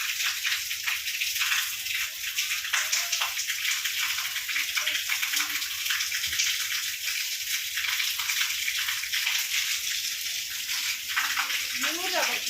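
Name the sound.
heavy rain and flowing rainwater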